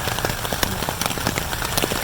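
Steady rain falls at Tucker Hill, pattering densely on surfaces nearby with scattered sharper drops throughout, filling the scene without any talk.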